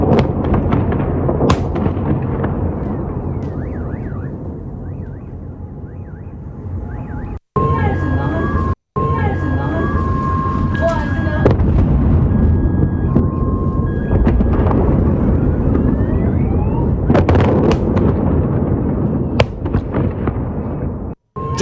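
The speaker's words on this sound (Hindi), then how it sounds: "जो धमाके की आवाज सुनाई दे रही है वो डरा देने के लिए काफी है" Sharp blasts and cracks of wartime explosions in the Israel-Iran war burst out amid a continuous roaring din, with a siren-like wail and a couple of abrupt dropouts.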